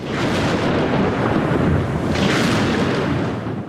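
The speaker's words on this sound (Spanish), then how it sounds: "estalla una fuerte tormenta" A heavy thunderstorm rumbles with loud, continuous low thunder and rushing noise throughout, swelling briefly in the middle without any clear break.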